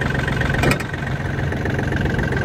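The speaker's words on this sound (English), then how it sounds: "so I just grabbed his tractor and come out here to mow with." A John Deere 770 compact tractor engine runs steadily nearby while mowing with a finish mower, with a low, rough idle rumble and a brief knock or clatter early on.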